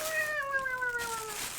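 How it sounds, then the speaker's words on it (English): A pet cat named Booper lets out a single drawn-out meow that slides gently downward in pitch, close to the microphone, with no talking over it. "Can make Booper meow for the microphone."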